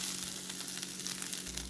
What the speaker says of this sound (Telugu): దాంట్లో తడి ఆరిన వరకు కొంచెం కొబ్బరికాయ వేయించుకోవాలండి